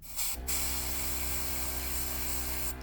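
A steady, continuous airbrush hiss spraying paint onto a nail stencil, starting after a brief pause and running unbroken, close and fairly quiet, with no talking.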